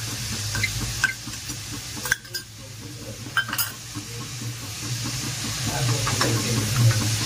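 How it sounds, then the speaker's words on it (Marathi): Cashews and ginger-garlic paste go into a hot pan for butter chicken, raising a steady sizzle and hiss with a few sharp clinks and scrapes of a spoon against the pan. "त्यामध्ये काजू टाकणार आहे, अद्रक लसूण पेस्ट टाकणार आहे"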